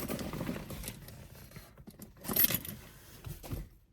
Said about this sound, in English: I'm going to hook my keys